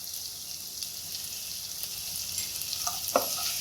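Onions fry with a little salt in a pan, a soft steady high sizzle with faint crackles and a couple of brief utensil scrapes near the end.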